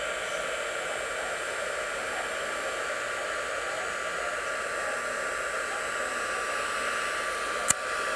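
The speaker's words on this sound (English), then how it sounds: "Okay, so turning on the heat tool." A craft heat tool blows hot air to melt embossing particles on a rubber-stamped card, a steady close hiss of rushing air with one brief click near the end and no talking.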